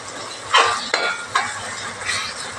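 Onions sautéing in a pan for a fish curry with chillies, garlic and tomatoes, with several close spoon-scraping strokes spaced about half a second apart over a low sizzle.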